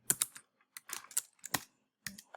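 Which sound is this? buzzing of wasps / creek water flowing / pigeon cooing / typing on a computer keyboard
typing on a computer keyboard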